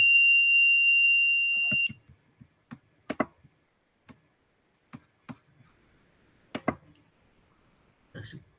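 A fire detector's high-pitched buzzer sounds steadily for about two seconds, then stops, followed by scattered clicks and taps.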